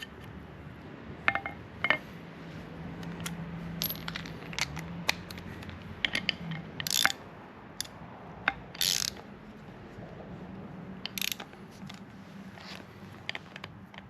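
A hand ratchet tightens a nut on a Hooker Blackheart steering shaft in a 1994–2004 GM S10, giving repeated sharp clicking bursts in an uneven rhythm, close by, with no talk.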